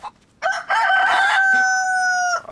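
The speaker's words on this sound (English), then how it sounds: "this chicken's going to make me look stupid now" A chicken in the video game DayZ crows loudly and close after a brief cluck, one long sustained call held for nearly two seconds and heard alone.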